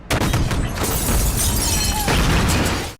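A courthouse explosion in a Die Hard film: a loud, sustained blast with crashing, shattering debris that fills nearly three seconds before cutting off abruptly.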